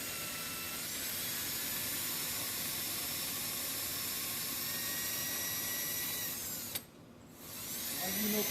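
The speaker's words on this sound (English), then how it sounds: "This is when the drill bit pops through the cylinder." A drill bit bores out a broken bolt, breaking through into an engine cylinder, with a loud, continuous high-pitched whine and hiss that cuts off abruptly near the end before rising again briefly.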